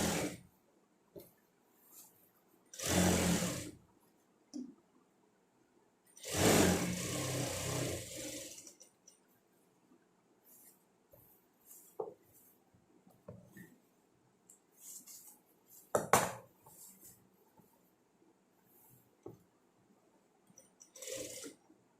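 A sewing machine stitches fabric in two loud bursts of rapid mechanical whirring, one short and one longer, separated by quiet handling noises, with small clicks and taps of fabric being arranged in between.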